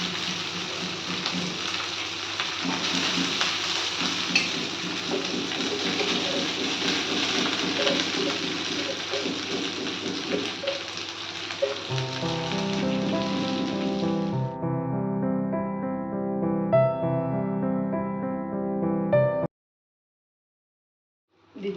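Cooked rice tipped into hot oil seasoned with turmeric in a kadai for lemon rice, giving a steady close sizzle and crackle that then shifts to a lower, more tonal frying hiss before stopping abruptly near the end.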